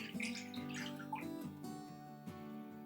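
A cup of warm water pours into a mixing bowl for a homemade sourdough starter, a faint splashing that sits under a louder tonal, music-like layer across the short span.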